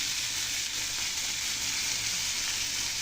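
Onions softened with salt and turmeric sizzling loudly and evenly in a pan, a dense continuous frying hiss with no pauses.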